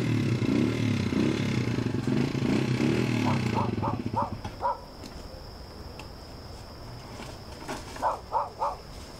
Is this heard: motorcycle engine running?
yes